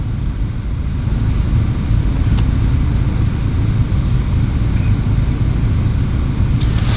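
A 2014 car's engine idling with the radiator cooling fan running constantly after water pump and thermostat replacement, a steady loud low rumble and whoosh with no speech.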